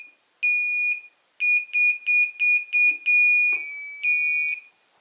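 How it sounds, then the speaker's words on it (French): A FrSky D8R-II Plus receiver's buzzer gives piercing, high electronic beeps during fail-safe programming: a long tone, then a rapid series of short beeps, and then longer tones, all close and loud. "Alors là maintenant je vais couper le buzzer."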